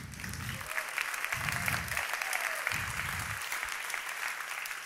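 An audience claps throughout a talk, a dense, sustained patter of many hands at steady strength, with low thumping bursts recurring underneath.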